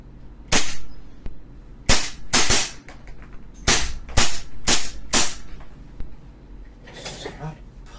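A WE M92 Beretta airsoft pistol fires with blowback, giving a series of sharp, loud cracks, some single and some in quick pairs, spread across the clip with short pauses between them.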